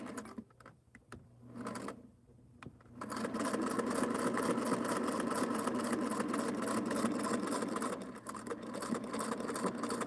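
A sewing machine stitches a quilt seam for a Halloween hexagon table topper. A few quiet taps come first, then the motor whirs steadily for several seconds with a rapid needle rhythm, briefly easing before resuming.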